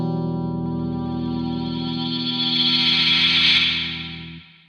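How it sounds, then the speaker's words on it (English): A Fuzzrocious Afterlife V2 reverb pedal ramped into self-oscillation: a thick, distorted sustained guitar drone with a hissing, rising upper wash that builds and then fades out, heard alone without talk. "we also have this kind of second foot switch here, which basically just ramps up that decay time into self-oscillation"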